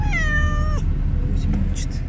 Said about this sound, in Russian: Мяучит, я не пойму кто.